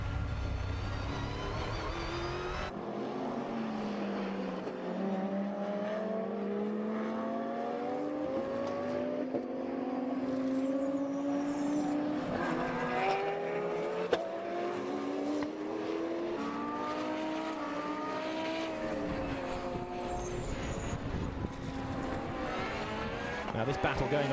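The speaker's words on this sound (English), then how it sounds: "the Ferraris wanted it as well. They go past him now." Ferrari and Porsche GT race cars sweep past on the Circuito de Navarra during a Blancpain Endurance Series race, engine notes rising and falling in overlapping passes under continuous commentary.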